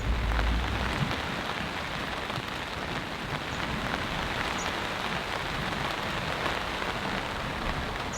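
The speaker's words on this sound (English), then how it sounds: "it's raining quite hard at the moment" Heavy rain drums steadily on a North Face StormBreak 2 tent, a dense continuous patter without pause and no voices.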